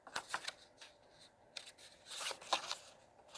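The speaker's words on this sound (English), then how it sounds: "I can't shuffle these cards" A large, thick deck of tarot cards is shuffled by hand in quiet, soft papery riffles and flicks arriving in several short bursts, close and faint, with no talking.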